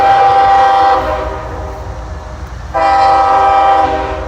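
A southbound train's horn blasts loud and close near a crossing, one long blast fading before a second starts sharply, over a low rumble of the passing train.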